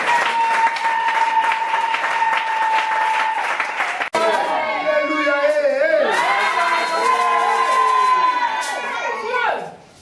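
Crowd at a religious crusade in the Central African Republic clapping and cheering loudly, with a steady wash of applause that shifts into raised voices and whoops before fading out at the end.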